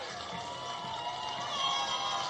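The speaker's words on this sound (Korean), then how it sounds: "후보들과 다 같이 손잡고 큰 박수 부탁드립니다" Crowd applause and cheering at a Democratic Party of Korea rally as candidates join hands on stage, a steady dense wash of clapping that swells slightly toward the end.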